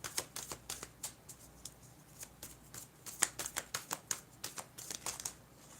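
Tarot cards shuffled and drawn during a reading: a quick run of crisp, papery flicks and snaps, close and fairly quiet, with irregular rhythm and no talking.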